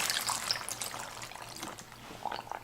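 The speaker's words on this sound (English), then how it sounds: "so I'm just gonna pour water." Water pours and splashes into a container packed with shredded cabbage for sauerkraut, a steady trickling fill that rises and falls over a few seconds with no voices.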